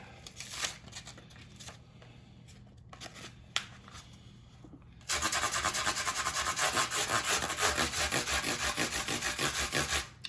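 Metal file strokes scraping across the frets of an electric guitar during a fret dress, a quiet scrape or two at first, then steady rapid back-and-forth rasping that runs loud and unbroken through the second half.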